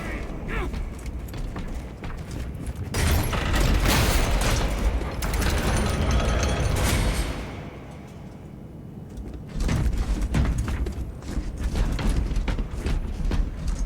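Heavy gate mechanism in Warhammer 40k Space Marine 2, a loud sustained mechanical grinding and rumbling with booming bursts, easing midway then resuming, set against game ambience with brief voices.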